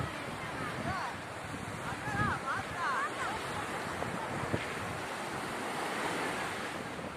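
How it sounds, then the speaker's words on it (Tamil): Strong wind buffets the microphone at a seashore by an L-shaped bridge in Kilakarai, with steady surf washing beneath it; brief chirps and a faint voice rise over the continuous roar midway. "காற்று செம காற்றா இருக்குது."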